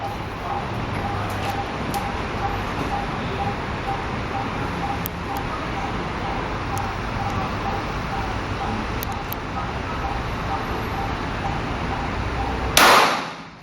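A Glock 26 pistol at target practice: a single sharp, loud report near the end after a long stretch of quiet outdoor background with faint ticks.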